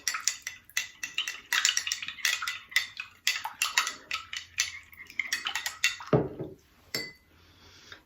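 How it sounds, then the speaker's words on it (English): A metal spoon stirs a solute solution in a glass container, giving rapid, continuous clinking and scraping against the glass for several seconds, fairly close and loud, ending in a softer swish with a final clink. "so I'm going to give it another stir"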